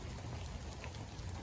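Rain falling outdoors on a rainy Christmas morning, a soft, dense, continuous patter of drops with a steady hiss, fairly quiet and unbroken, with no voices.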